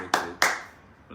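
Two short bursts of applause from a live audience, each a quick swell of clapping that fades, with a brief tap at the end; no speech over it.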